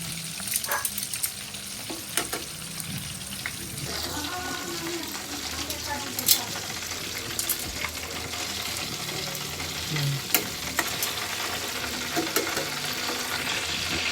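Chicken pieces frying in oil in a deep kawali, a steady close sizzle and crackle with occasional stirring scrapes and small pops throughout.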